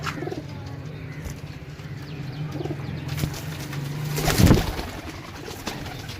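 Pigeons cooing in a home loft, a low steady drone that runs through the first half, then a louder close burst near the end over faint background noise.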